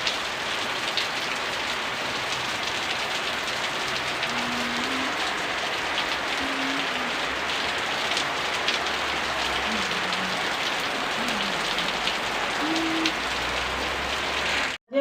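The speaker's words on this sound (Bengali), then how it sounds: "হঠাৎ শুরু হলো বাইরে মুষলধারে বৃষ্টি, বড় বড় ফোটা বৃষ্টি।" Heavy rain with big drops pouring down outside after a hot spell, a dense, steady hiss of water drumming on surfaces throughout, fairly soft and even, with no voices.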